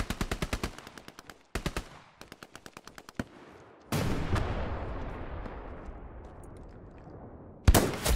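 Gunfire in the video game Hell Let Loose: sharp, loud bursts of rapid automatic fire broken by short pauses, then a heavy blast with a long rumbling decay, and another close burst at the end, with no talking.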